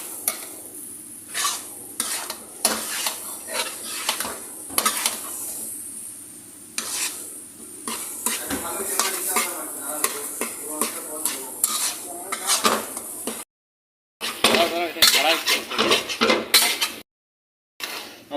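A utensil stirs paneer and potato in a pan, with repeated scraping and clinking strokes against the metal over a light sizzle. The sound comes in irregular bursts with a few brief silent gaps.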